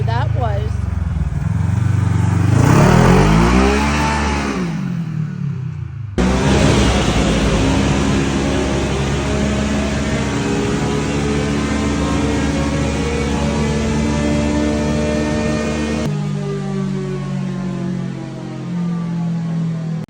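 A KRX 1000 side-by-side with a 35s clutch kit and RNG Stingray mods revs hard, its engine rising and falling in pitch under someone talking, then holding a loud sustained drone close by.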